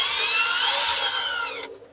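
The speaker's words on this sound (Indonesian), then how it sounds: "saya cuma pakai bor ini teman-teman ya" A handheld power drill runs steadily with a bright, whirring buzz for under two seconds, then cuts off and winds down, close up, while building a small bird cage for breeding white-rumped shamas.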